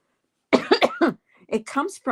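A person with a lingering cough coughs in a close, loud burst of several hacks, then after a short pause a second run of coughs, with no other sound around them.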